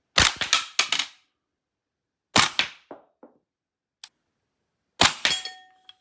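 Rare Arms AR15 MK18 gas blowback airsoft rifle firing on semi: sharp, loud close-up cracks in quick clusters of three or four, separated by short pauses, with a lone metallic click in between.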